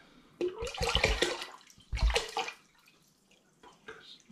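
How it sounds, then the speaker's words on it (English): Spring water poured into a cider fermenter for a homebrewed mango and ginger cider, two short gushing splashes about a second apart, close by, then quiet with faint trickles. "I'm going to pour this rest of this spring water in"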